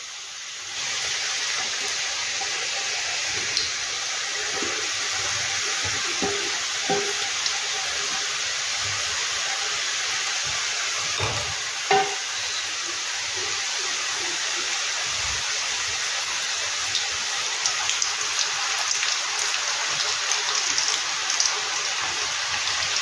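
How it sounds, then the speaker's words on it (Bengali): Maida nimki frying in hot oil makes a steady, dense sizzle like heavy rain, continuous throughout with occasional soft pops and clicks, no voices. "যেমন এগুলো ভাজবে তেল গরমে সব আলাদা আলাদা হয়ে ভেসে উঠবে"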